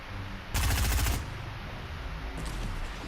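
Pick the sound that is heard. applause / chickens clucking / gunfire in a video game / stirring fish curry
gunfire in a video game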